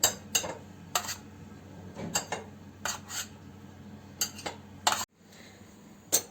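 Syrup-soaked şekerpare cookies being moved into a glass baking dish, with a series of sharp clinks and taps of metal utensils against glass and pans at irregular intervals, close and fairly quiet.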